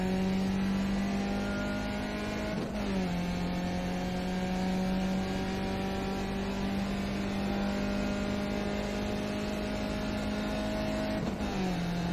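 A race car engine in a sim racing game holds a steady high drone, with two quick gear-shift dips that drop and recover the pitch, loud and continuous with no voices.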